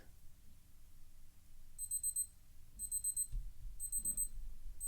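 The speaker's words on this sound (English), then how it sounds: "a quick sample of what the alarm sounds like" Casio DW-291H digital watch countdown timer alarm beeping in three separate short bursts of rapid high-pitched beeps, close and clear over a low room rumble.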